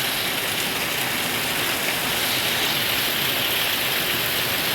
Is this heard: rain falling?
yes